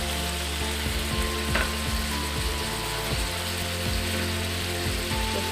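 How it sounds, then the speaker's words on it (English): Fish stir-frying in oil for an Igbo-style green plantain porridge gives a steady, close sizzle, broken by a regular clicking and scraping of a utensil against the pot. "So stir fry our fish now."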